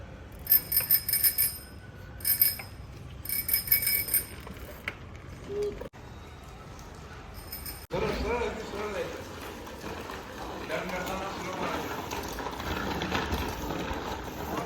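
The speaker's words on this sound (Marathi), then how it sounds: "घंटी खराब केली ना तू" A bicycle bell with a faulty mechanism rings in several quick bursts of bright metallic tings at the start, then gives way to a child's and adults' voices and rustling handling noise.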